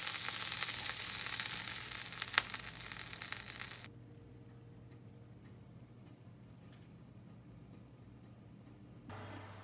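Sea bream frying in a pan makes a loud, close sizzle that suddenly drops to a quiet hiss partway through and then rises slightly again near the end.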